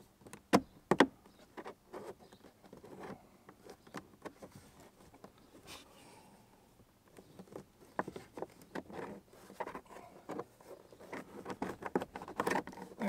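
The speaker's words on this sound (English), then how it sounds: "making sure that we pop up all of the clips" Plastic pry tool popping trim clips loose around the tweeter housing of a 2020 Toyota Tacoma, a series of sharp close clicks and snaps in irregular rhythm, with rustling of trim between pops and no talking.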